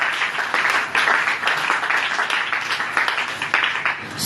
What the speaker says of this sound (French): Acclame plus fort pour la gloire du Seigneur